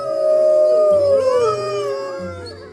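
Wolves howling in a pack, several long wavering howls overlapping loudly and close, with lower yips and tones beneath, gradually fading.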